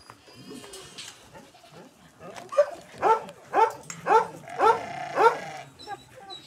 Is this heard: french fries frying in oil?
no